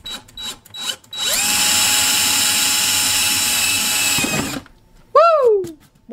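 A power drill bores a hole in a plant pot, one sustained high whine lasting about three seconds between short bursts of clatter, followed by a brief voiced exclamation.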